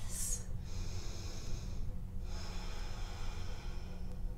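Slow, audible breaths drawn in and out through the nose during a warrior two yoga pose, close and steady over a low room hum.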